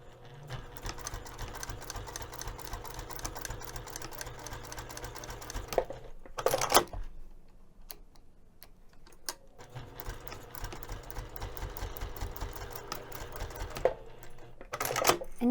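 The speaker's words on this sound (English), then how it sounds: "I'm going to take this over to the sewing machine and I'm going to stitch 1/8 of an inch away from the folded edge" A sewing machine stitches a messenger bag strap in rapid, steady runs of needle strokes, close and clear, pausing briefly in the middle with some handling clatter before starting again.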